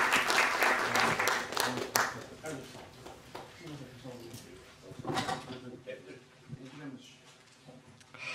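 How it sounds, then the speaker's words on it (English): An audience at a business conference applauds four panelists, with loud claps at first that thin out over several seconds as talking and stage noises take over. "I'd like to ask the audience to give a big round of applause to all four"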